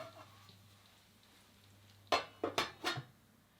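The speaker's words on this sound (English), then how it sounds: "I'm just going to put the lid on again and let it simmer for another 30 minutes." A lid clatters onto a pot of simmering mushrooms, three or four sharp metallic knocks close together near the end, after a quiet stretch with a low hum underneath.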